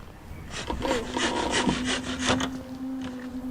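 A hand saw cutting through wood in quick back-and-forth rasping strokes, close and fairly loud, with a faint tonal hum underneath.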